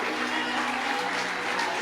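A church congregation at a lively Pentecostal worship service claps for Jesus, a dense, steady wash of applause and crowd noise filling the room throughout.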